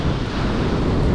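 Stormy winter surf on a Turkish beach, loud heavy waves rushing and surging onto the sand with a constant roaring wash and wind buffeting the microphone, no voices.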